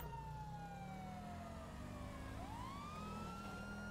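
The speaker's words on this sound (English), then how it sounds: "I hear your siren." Wailing police car siren from GTA V, sweeping down in pitch then rising again, loud and continuous over engine rumble, with no talk.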